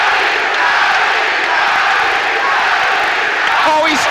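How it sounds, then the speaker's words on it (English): A boxing crowd roars continuously through a Thomas Hearns fight, a dense, loud wall of cheering and shouting that stays steady throughout, with a few whoops rising near the end. "But the crowd have now been ignited."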